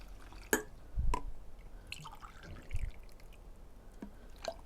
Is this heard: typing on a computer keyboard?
no